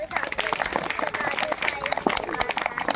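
Applause and clapping for young children at a government primary school's research fair, a dense continuous patter lasting throughout with crowd noise and voices mixed in.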